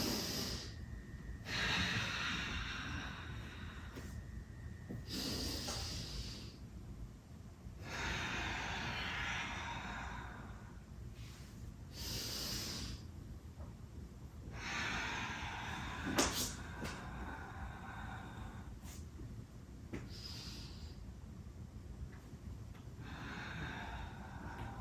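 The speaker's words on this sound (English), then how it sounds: "So if you can hear my breath" Slow, steady yoga breathing through Sun Salutation B, long audible inhales and exhales repeating in even cycles, close and fairly quiet, with occasional soft knocks and rustles.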